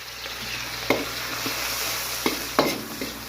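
Garlic and ginger frying in hot oil for a Filipino ginisang upo sa hipon, a steady crackling sizzle with a few sharp scrapes of a spatula against the pan, close and without talk.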